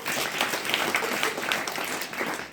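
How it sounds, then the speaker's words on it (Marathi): Applause from an audience at a children's school assembly, a steady wash of clapping filling the whole moment at moderate level, without speech. "धन्यवाद कार्तिकसाठी एकदा जोरदार टाळ्या"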